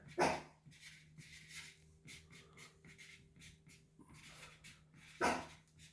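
A dog barks sharply twice, once at the start and again near the end, with quieter whimpers and rustling in between.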